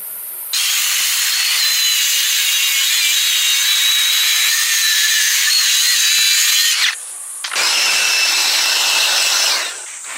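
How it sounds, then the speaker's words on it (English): Oriented strand board for a double-sloped wooden house roof is sawn in a long, loud, hissing cut lasting several seconds, a brief pause, then a second sustained cut that trails off. "He is cutting the oriented strand boards to match the size of the double-sloped roof"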